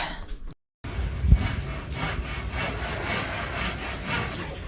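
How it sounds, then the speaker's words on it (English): Rhythmic rasping strokes of sandpaper against wood, a steady back-and-forth scrubbing heard up close. "now we gotta sand and make that look nicer"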